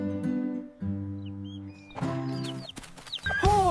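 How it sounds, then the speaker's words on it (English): A hen clucks in short bursts with a few higher squawks, sounding close and fairly clear. "Hen says cluck cluck."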